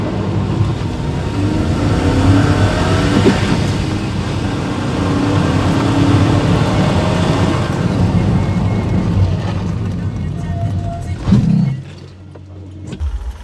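A Maruti Baleno and a Volkswagen Polo accelerating side by side in a drag race, loud sustained engine roar with tyre and road noise that fades out as the cars pull away.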